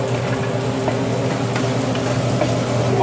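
Bell pepper sizzles in oil in a hot pan while being stirred, a continuous loud crackling hiss over a low steady hum, with occasional soft scrapes.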